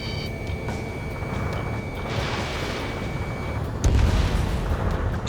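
A target explodes in the jet combat game Ace Combat 7 Skies Unknown, a deep boom erupting near the end over a constant roar of jet engine and cockpit noise, with no talk.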